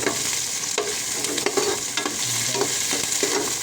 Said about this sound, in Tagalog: gigisahin muna siya sa mantika, luya, sibuyas, bawang